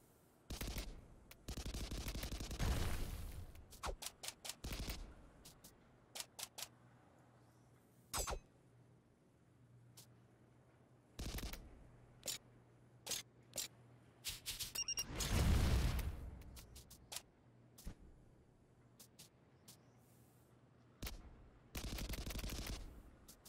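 Machine gun in the side-scrolling game Kunai firing in scattered short bursts and single sharp shots, with a few longer rattling volleys and quiet gaps between, over a faint low hum.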